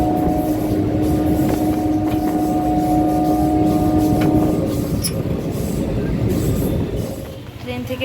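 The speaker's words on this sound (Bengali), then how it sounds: "ট্রেন থেকে নামলাম" A passenger train gives a loud, continuous rumble, and faint squealing tones run through the first half. The noise eases toward the end.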